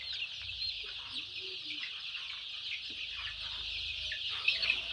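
Sonali chickens in an 800-bird poultry farm cluck in a constant crowded chorus, many birds at once at moderate distance, with a low hum underneath.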